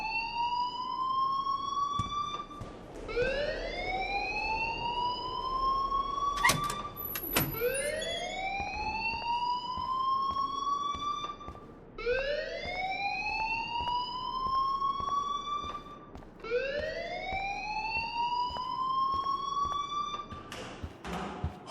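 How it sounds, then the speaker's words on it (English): A school fire alarm in the video game Life is Strange rings in loud, repeating rising electronic whoops, each sweep climbing in pitch, about five cycles in steady succession with no talking. "please turn off that alarm since that's your job."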